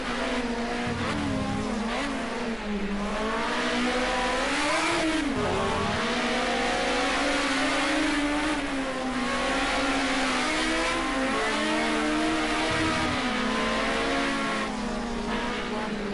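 Onboard engine of a Group A touring race car lapping Snetterton, a loud, steady high-revving drone that rises and falls in pitch through gear changes and corners, close and continuous throughout.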